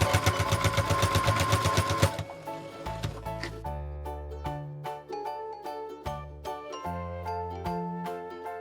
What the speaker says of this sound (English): Make sure your sides are even and sew across it.